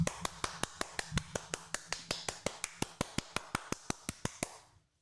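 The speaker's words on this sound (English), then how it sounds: "She clapped for herself." A woman claps for herself, about twenty-five sharp, evenly spaced claps in a quick steady rhythm, close and clear, slowing slightly and stopping near the end.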